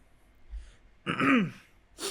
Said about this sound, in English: Had to clear my throat to say that